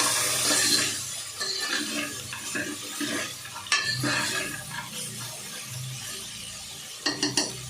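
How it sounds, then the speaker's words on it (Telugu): Green peas and vegetables for veg kurma are stirred in a pan, giving soft repeated scraping and clinking with a light watery slosh and a few sharper knocks near the end. "వీటన్నిటిని బాగా మిక్స్ చేసేసుకోవాలి"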